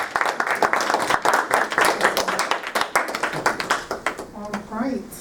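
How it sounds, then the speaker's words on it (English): Applause from a conference audience after a presentation, a steady close ripple of many hands clapping that thins and fades near the end as a voice begins speaking. "Please give another round of applause."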